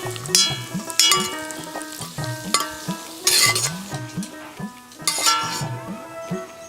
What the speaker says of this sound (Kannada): ಬಾಣಲೆಯಲ್ಲಿ ಗೇರು ಬೀಜ ಮತ್ತು ದ್ರಾಕ್ಷಿಯನ್ನು ಹುರಿಲಿಕ್ಕೆ ಉಂಟು